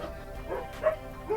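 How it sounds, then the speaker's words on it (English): A dog gives a few short, fairly faint yips or barks, one followed by a whimpering note, in a brief indoor moment with no voices. "Stupid dogs."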